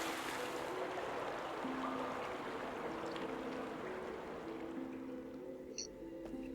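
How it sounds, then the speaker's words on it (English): Water rushing and pouring through the veins of a tree in the video game Obduction, a steady broadband flow with a faint low hum underneath, continuous and fairly quiet throughout. "Water flows through the veins."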